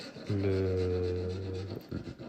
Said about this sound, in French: j'ai limé avec une lime pour vraiment faire en sorte que ce soit pas coupant